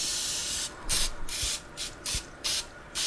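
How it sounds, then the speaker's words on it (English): Canola oil cooking spray hisses onto a baking pan in about six short, close bursts separated by brief pauses. "I took a whole bunch of canola oil and sprayed my pan"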